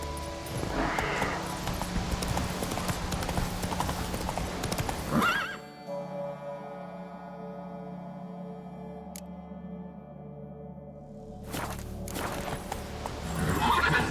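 Roach the horse galloping in The Witcher 3, rhythmic hooves pounding alongside a whinny, close and loud, then a pause over held music tones before the hoofbeats return.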